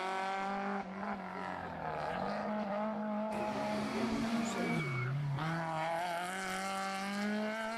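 A Peugeot 106 Rally in class F212 storms along a stage of the 2011 Rallye de l'Avesnois, its engine loud and close in a continuous high-revving howl, pitch dipping briefly mid-run before climbing again, with faint tyre noise.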